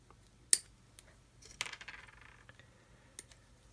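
Sharp plastic snips as cutters nip parts of a Tamiya 1/32 GR Yaris Mini 4WD model kit from the sprue: one crisp click, then a small rattling snap and light tapping, close and quiet, with no talking.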